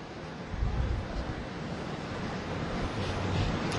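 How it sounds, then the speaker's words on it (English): Cold wind blows outdoors at a night-time Occupy Wall Street protest in New York. Steady, loud broadband rushing buffets the microphone with low rumbling gusts throughout, and no voices are heard. "It is very cold and windy."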